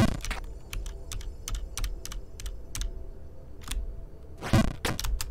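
Computer keyboard keys are pressed in quick irregular bursts, crisp close clicks and clacks over a low background hum, with no voices.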